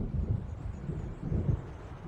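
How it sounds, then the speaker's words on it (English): Thunder from an approaching storm in the video game Alan Wake rolls as a low, continuous rumble with a few swelling surges, steady and unaccompanied by voices. "It seems there's a storm coming."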